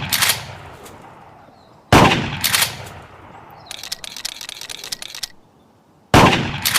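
Gunshots fired at pop-up targets in the ClayHuntVR virtual reality shooting game: loud, sharp blasts in separate bursts with a rapid clattering rattle between them, heard alone with no talking.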